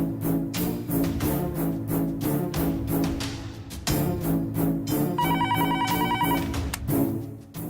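A telephone rings during a call to a company, its repeated electronic ring tones sounding under loud, dense background music.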